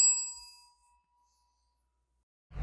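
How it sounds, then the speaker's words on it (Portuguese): A cooled bell is struck once to check its pitch, ringing out in a clear, bright tone with sharp overtones that fades over about a second into silence, before a low rumble begins at the end. "Depois de resfriado, a gente vai tocar o sino agora e conferir qual que vai ser a frequência."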